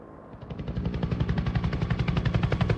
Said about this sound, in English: You see the helicopter in the distance taking off to come on up here.